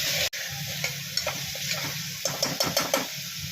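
Masala and salt being sautéed in a pan for Kolhapuri tambada mutton rassa, with a steady sizzle and a run of spatula scrapes and stirring knocks, close and clear with no talk.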